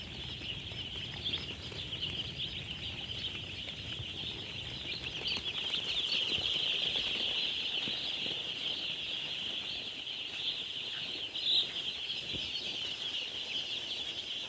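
A dense chorus of many broiler chickens cheeps and peeps continuously, a steady high-pitched din filling a shed, with a few louder calls standing out.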